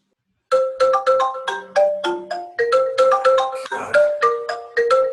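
A mobile phone ringtone plays loudly and alone, a bright electronic melody of quick plucked notes that repeats in short phrases.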